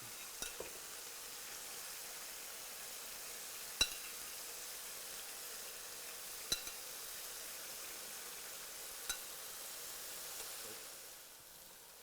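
Sausages, one glazed with teriyaki, sizzle on a grill, giving a faint, even hiss that runs throughout with a few sharp isolated clicks or taps, then fades slightly at the end.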